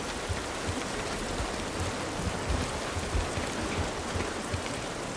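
Steady rain falls in The Last of Us, a dense, even hiss of drops on surfaces with no talking.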